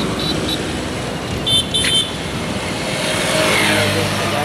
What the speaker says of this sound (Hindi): गाड़ी को पार्क होने देते हैं तभी हम निकलेंगे।